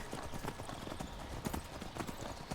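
Horse hooves clip-clop steadily in Skyrim, a dense run of rapid, moderately loud hoofbeats with a faint hint of a whinny, over a continuous ambient bed and no talking.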